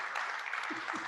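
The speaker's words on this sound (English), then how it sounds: "Give yourselves a round of applause." A conference audience at the GMDC innovation event claps together, a full steady applause filling the room, with a voice starting to speak over it near the end.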